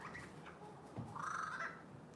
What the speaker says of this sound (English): That's a magpie sounding like a kookaburra.